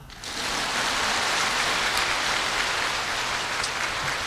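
A crowd at a Buddhist dharma talk in Penang, Malaysia breaks into sustained applause, a dense steady patter of many clapping hands that swells up quickly and holds at full strength to the end.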